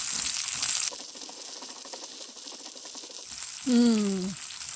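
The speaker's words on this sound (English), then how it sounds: "Now I'm going to just add all the pepper and garlic and just saute." Serrano peppers and garlic sauté in a pan, giving a steady close sizzle and crackle that continues underneath a brief tonal whine near the end.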